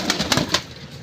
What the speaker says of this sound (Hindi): ये सफ़ेद कबूतर पंजाबी कबूतर है